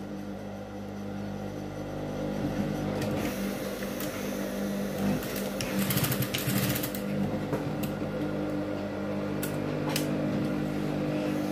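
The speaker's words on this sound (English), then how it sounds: "so I'm going to be stitching it" Sewing machine stitching school uniform shorts with a zipper, a steady close mechanical whir with humming drone and occasional clicks, running continuously without talk.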